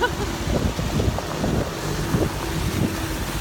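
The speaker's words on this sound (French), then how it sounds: "c'est le gros tracteur qui passe" A big tractor passes by outdoors, its heavy engine giving a steady, loud low rumble mixed with gusty wind noise across the whole stretch.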